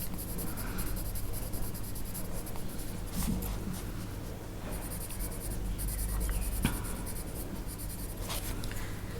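Colored pencil scratching steadily across the page of an Outlander colouring book, a soft continuous scribbling of close strokes laid down for a base coat, quiet and heard alone.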